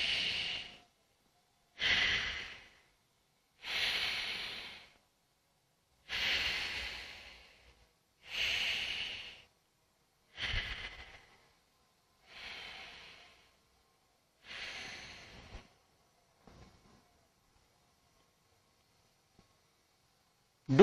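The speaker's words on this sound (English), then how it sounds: "Breathing in from the right, breathing out from the left is Vilom." Alternate nostril breathing in Anulom Vilom pranayama: eight slow, even breaths, each a soft airy rush lasting about a second and a half with short pauses between, fading gradually toward the end before silence.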